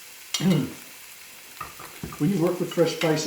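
Shallots and garlic going into a hot pan for a pasta jardiniere, with brief bursts of sizzling and stirring alternating with quieter gaps, fairly close and moderately loud.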